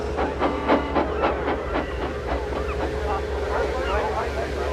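A steam train, the Flying Kipper fish train, chuffs in rhythmic puffs over a steady low rumble and hiss, fading to a continuous roll as it moves along.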